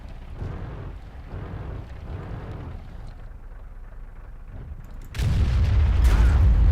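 FV215b heavy tank firing its main cannon in World of Tanks: after several seconds of low engine rumble, one loud, deep, booming shot bursts in close and sustains a heavy roar.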